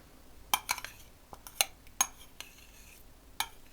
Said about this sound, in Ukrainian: Це все ретельно перемішую